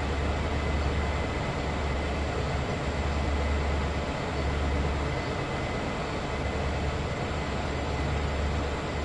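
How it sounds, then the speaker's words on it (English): A long freight train in Train Sim World 2 rumbles past close by, a steady heavy roar with low rhythmic pulsing from the wagons, no talk over it. "Oh, that's the train that I'm unofficially racing."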